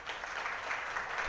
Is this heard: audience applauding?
yes